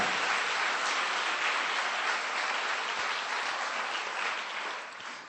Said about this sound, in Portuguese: Dê um aplauso ao Senhor, queridos.